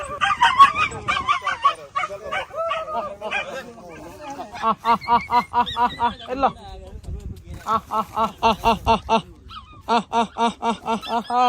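Several dogs bark repeatedly in bursts, some close and loud, with overlapping yelps and honking-like calls between volleys.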